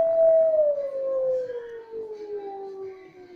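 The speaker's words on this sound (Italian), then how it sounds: "È un altro, sempre il lupo, no?" A smart speaker plays a recorded wolf howl, one long clear tone that slowly glides downward and holds for several seconds, loud and alone with no talk over it.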